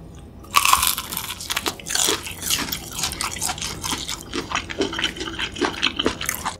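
Crunchy, freshly fried food is chewed close to the microphone in a busy run of crisp crackles and bites, with no talking.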